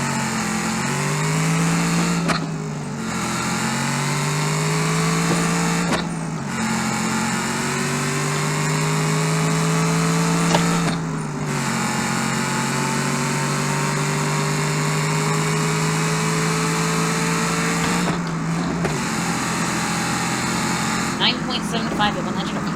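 An engine in the BeamNG driving game revs through repeated gear changes during a quarter-mile drag race launch, rising pitch sweeps broken by short shift gaps, loud and steady throughout with a voice talking over it.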